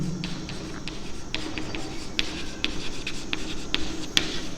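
A pen writes on paper during a maths lesson, giving a close, quiet scratching with quick strokes and small taps in an uneven rhythm, heard alone.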